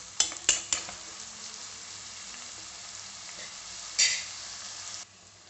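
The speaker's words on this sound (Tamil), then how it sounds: "வெங்காயத்தை நல்லா வதக்கி விடலாம்." Oil sizzles steadily in a pan as onions fry for paneer masala, with a few sharp clinks of a utensil stirring near the start and again around the middle.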